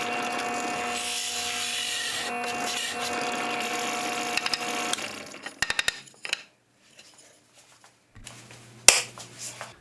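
Router base plate being cut with a power tool from its second side: a loud, steady rasping cut for about four seconds, then breaking into scattered clicks and scrapes, a short hum and one sharp knock near the end.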